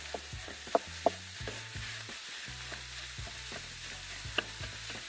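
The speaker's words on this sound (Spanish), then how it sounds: "Le voy a añadir la carne picada," Ground meat fries in a pot for a slow-cooker ragù, a steady faint sizzle broken by repeated scraping and knocking as a utensil breaks it apart, with a few sharper clicks and no talking.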